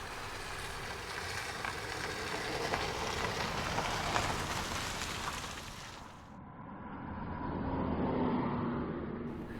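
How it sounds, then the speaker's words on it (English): A car passes on a quiet farm road, its rushing tire and engine noise swelling and fading over several seconds, followed by a second vehicle approaching in the distance. "This is a farm road. Not many cars drive by, but a few do."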